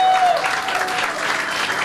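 A comedy club audience at a pub stand-up show breaks into applause, a dense burst of clapping lasting under two seconds.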